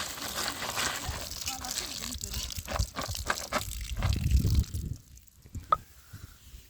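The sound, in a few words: washing peeled ginger and garlic with water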